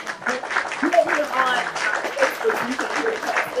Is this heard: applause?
yes